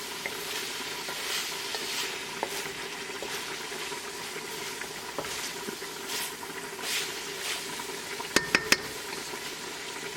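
Ground bison simmering in a pan, a steady soft bubbling sizzle held at an even low level throughout, with a few sharp clicks of a utensil near the end.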